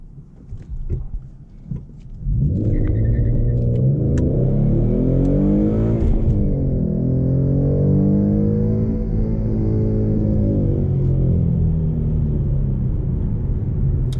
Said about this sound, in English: let you guys see my first 0 to 60 attempt